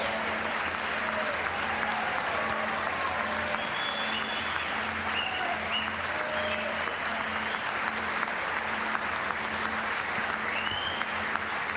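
Members of the United States Congress applaud steadily in a large chamber, a broad, even roar of clapping that holds for the whole stretch with a faint voice underneath.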